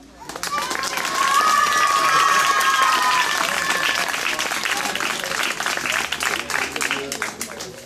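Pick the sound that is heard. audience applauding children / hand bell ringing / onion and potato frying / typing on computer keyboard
audience applauding children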